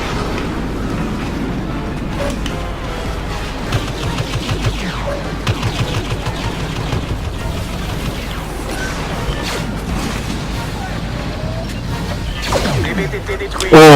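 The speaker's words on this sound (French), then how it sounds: "On est tous là avec nos canons à ion." Ion cannons fire at an AT-AT during a Star Wars Battlefront match, a dense, continuous barrage of blasts, mechanical clatter and explosions running throughout, with voices in the mix.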